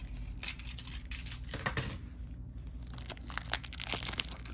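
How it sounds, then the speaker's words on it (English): A brand-new deck of Star Wars trading cards being unwrapped, with steady crinkling, tearing and rustling of plastic wrap and card stock at close range, with no talking. "So I'm gonna open up these cards."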